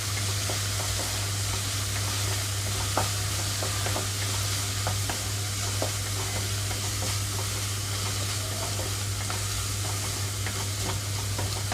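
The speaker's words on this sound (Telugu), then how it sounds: "ఒక్క నిమిషం పాటు బాగా హై ఫ్లేమ్లో ఉంచి వేయించుకోవాలి" Vegetable fried rice stir-fries on high flame, a constant close hiss of sizzling with scattered small spatula clicks over a low steady stove hum.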